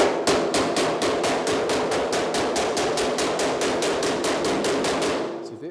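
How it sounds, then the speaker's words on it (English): A hammer rapidly strikes the rolled-down flange edge of a steel trunk lid being hemmed on a 1940 Ford-inspired hot rod, about twenty-five loud, even metallic blows in quick succession before stopping. "I'm hammering the top edge of the flanges rolled down inside."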